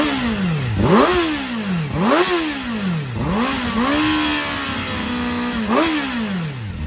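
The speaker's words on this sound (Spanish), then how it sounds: "os quería enseñar un poco el sonido de esta moto" Kawasaki ZX-4RR inline four-cylinder motorcycle fitted with an Akrapovic exhaust, revved hard several times in a row, each blip climbing to a high shriek and dropping back, close and loud with no talking.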